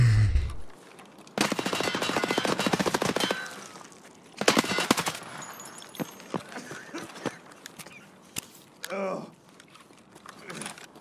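Bursts of gunfire in the Escape from Tarkov shooter game: a sustained rapid volley, then a second clustered burst, followed by scattered single shots and sharp impacts at varying distances.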